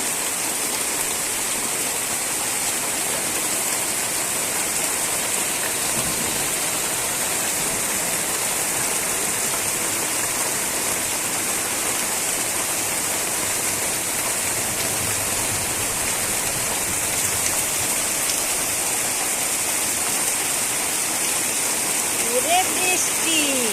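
Heavy rain falls in a steady, loud wash of splashing water that continues without a break, with faint voices occasionally beneath the downpour.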